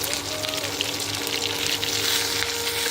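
Drumstick leaves sautéing in a hot pan give a steady, close hiss and crackle of frying, filling the short stretch without pause.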